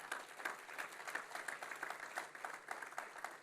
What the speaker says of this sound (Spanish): Vamos, aplauda al Señor en alabanza.